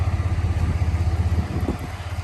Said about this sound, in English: The engine did that.